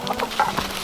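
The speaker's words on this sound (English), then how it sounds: "I like having a big flock of chickens." A flock of backyard hens clucking close by in short, scattered calls, with no talk over them.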